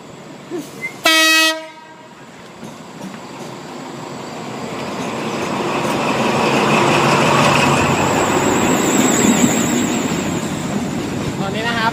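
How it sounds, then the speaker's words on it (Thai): A short, loud train horn blast is followed by a deep rumble that builds steadily as a train rolls closer and pulls into a railway station in Kanchanaburi, Thailand. "รถไฟมาแล้ว"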